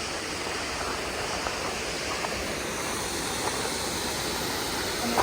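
Water rushing through a culvert dam clogged with debris and leaves, a constant dense roar of flowing water, steady and full without pauses, heard from close by with no talking.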